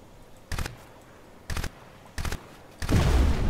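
Gunfire in the PC shooter Crysis: three short separate bursts of shots, then a heavier blast at the end, fairly close with no talking.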